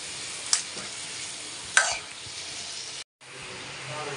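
Marinated chicken fries in a pan with a constant soft sizzle, broken by two sharp metallic scrapes of a spoon stirring, and the sound cuts out for a moment near the end.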